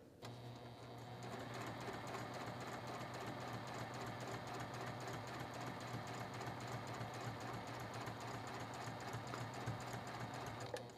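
A sewing machine stitches appliqué for a quilt sampler, running as a steady, continuous mechanical hum and whir at close range for the whole stretch, with no talk over it.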